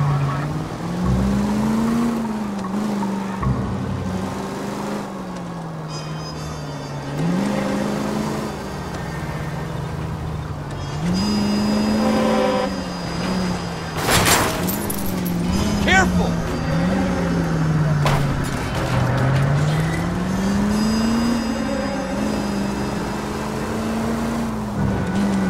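A car engine in L.A. Noire hums and rises and falls in pitch as the driver accelerates and shifts, steady and fairly close, with a sharp thump midway and voices talking over it.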